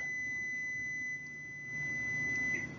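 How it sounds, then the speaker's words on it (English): A steady electronic buzzer tone sounds continuously, a high pure pitch holding without a break, fairly quiet over a faint low background hum. "my buzzer's going off"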